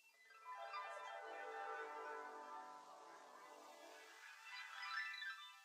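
Harp music from the film Fantasia: quiet, shimmering sweeps and rippling glissandos rise and fall, heard faintly and distantly at low level.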